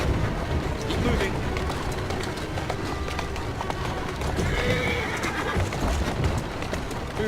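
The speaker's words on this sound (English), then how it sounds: "Who's a good horse?" A horse in the London-set video game Assassin's Creed Syndicate gallops with rapid, rhythmic hoofbeats and lets out a whinny midway, loud and close, amid dense game ambience.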